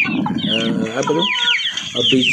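Chickens, including contest birds and ornamental bantams, clucking and squawking close by while eating eagerly, a busy overlapping chorus of calls with rising and falling cries throughout.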